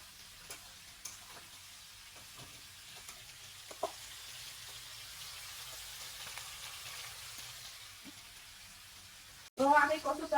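Taro (kochu) is being sautéed with spices in a pan for a hilsa curry, giving a steady low sizzle and frying hiss throughout, with a few faint stirring clicks and a louder clatter near the end.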